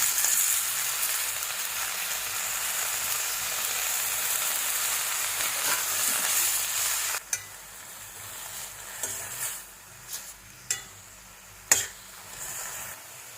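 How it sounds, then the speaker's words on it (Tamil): Moringa (drumstick) leaves sizzling and being stirred in a pan, a steady hiss with the spoon scraping and knocking against the pan in sharp taps toward the end. "இப்போ இந்த முருங்கை இலையை போட்டு கிளறி கொடுக்கலாம்"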